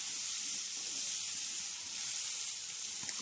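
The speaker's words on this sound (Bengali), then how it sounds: "দেখতে হবে আদা পেঁয়াজ পেস্ট যেটা দিয়েছি সেটা যাতে একটু ভাজা ভাজা হয়" Ginger and onion paste sizzles steadily in a hot pan while being fried for a home-style egg curry, a continuous bright hiss with no talk.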